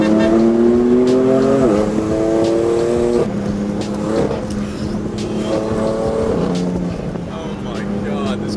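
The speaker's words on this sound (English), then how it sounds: "this car is so fast" Stage 2 tuned BMW F80 M3 four-door sedan on Federal 595 RSR rear tyres accelerating hard, a loud in-cabin engine roar climbing through several quick upshifts, with excited voices over it.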